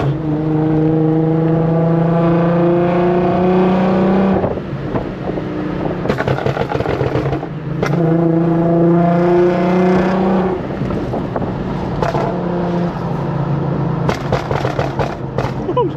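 A tuned Infiniti Q50 revs hard through a loud exhaust, rising and falling in several long pulls, with sharp crackling pops and bangs between the revs, recorded close from inside with the windows down.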